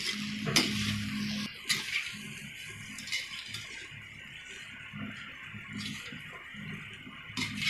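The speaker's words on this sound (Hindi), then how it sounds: "अब इसको अच्छे से मिला लीजिए।" Poha being stirred in a pan with turmeric and chopped coriander: a spoon scrapes and clinks against the pan at intervals over a soft, continuous sizzle, close by.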